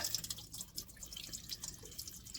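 Water drains and drips from the loosened plug of a MerCruiser boat engine's exhaust manifold during winterizing, a faint, continuous trickle with scattered splashing drops.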